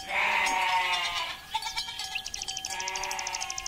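Goats in a mountain pasture bleat loudly and close by, several drawn-out wavering cries followed by shorter pulsing bleats, with no voices.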